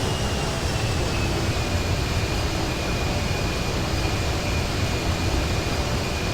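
Airplane engine in Grand Theft Auto 5 lining up with the runway at Los Santos International: a loud, steady, continuous roar that holds without variation throughout.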